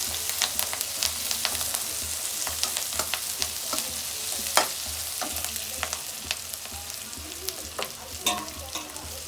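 Okra fries in a pan for a vegetable palya, with a steady bed of oily sizzling and repeated sharp clicks and scrapes of stirring, heard close and without any talking.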